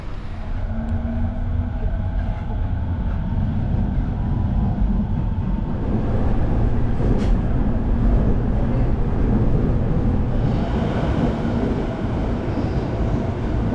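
A train in Japan rumbles steadily with a deep, continuous roar, briefly swelling louder and rougher partway through as it moves along the track.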